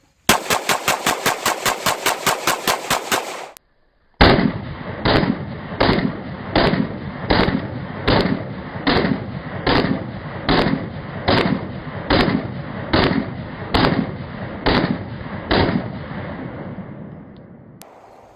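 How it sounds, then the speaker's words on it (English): A Walther PPQ M2 pistol fires 15 rounds as fast as the trigger can be pulled, each loud sharp crack following the last in a steady, even rhythm until the string ends, after a brief burst of rapid clicks at the start. "That was rapid fire. That was 15 rounds as fast as I could pull the trigger"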